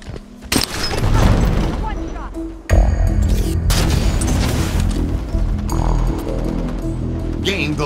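Grenade blasts in Halo 5 multiplayer, heavy booms hitting around the one- and three-second marks amid gunfire and game effects, with a voice talking over the action.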